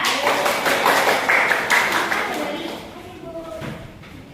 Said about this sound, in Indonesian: Beri aplaus buat Mbak Laila